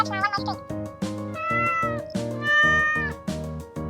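Small kitten meowing repeatedly in quick, high-pitched cries, about ten short calls in a rhythmic series, close and clear with no talk over them.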